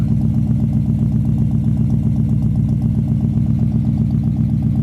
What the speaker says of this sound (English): It's got really nice dual exhaust on it